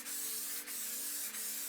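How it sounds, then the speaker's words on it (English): Spray can hissing black crackle paint across a canvas, a steady continuous spray with two brief dips where the nozzle pauses, heard close and alone. "just get a black crackle and spray it across"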